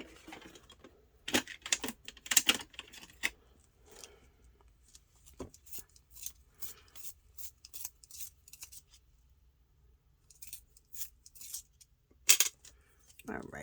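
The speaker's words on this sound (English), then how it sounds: "let me sharpen my pencil." A pencil being sharpened at a crafting table, with sharp bursts of scraping and grinding that come in uneven clusters separated by quiet gaps.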